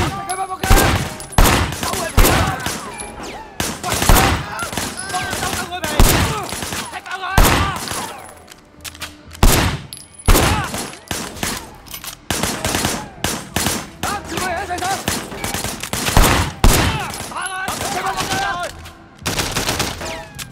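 Heavy gunfire in the video game Sleeping Dogs: dense, loud bursts of automatic and single shots crack repeatedly over twenty seconds with brief lulls, some sharper and nearer than others.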